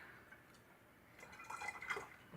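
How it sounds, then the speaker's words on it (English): Water trickles and drips into a homemade wine mixture, a faint, quiet splashing that grows a little toward the end, with no talk. "So now we're gonna, I think, add water to it next."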